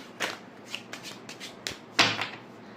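A deck of tarot cards being shuffled up close: a run of soft riffling bursts and slaps over about three seconds, the last one loudest.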